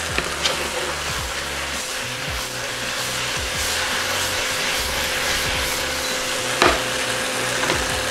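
Steak stir fry sizzling loudly and continuously in a pan, with soft rattles and scrapes as the meat is tossed and one sharper clatter near the end.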